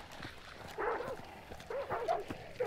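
Dogs barking in the game Hunt: Showdown, a few short yapping barks in two bursts, moderately distant over faint background game ambience.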